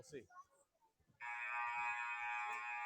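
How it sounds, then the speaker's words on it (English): At a school sports game, a loud, sustained electronic game-start buzzer blares steadily for almost two seconds after some quiet, indistinct talk and crowd noise. "There's the buzzer"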